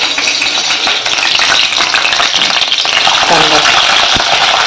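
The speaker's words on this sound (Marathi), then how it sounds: "त्याच्यात आपण कढीपत्ता टाकून घेऊ" Curry leaves hit hot oil in a kadai for a green pea and potato curry, giving a loud, steady sizzle and crackle close by, with faint talk and a brief stir near the end.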